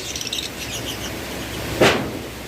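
Small caged pet birds such as lovebirds, cockatiels and budgerigars chirp in faint, high, fluttering bursts, with a brief rushing noise near the end.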